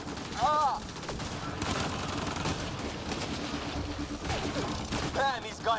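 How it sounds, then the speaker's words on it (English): Sustained gunfire erupts in a Mass Effect Andromeda firefight, dense rattling bursts layered over a constant background with occasional sharp electronic chirps, loud and continuous throughout. "Just keep firing, we can do this!"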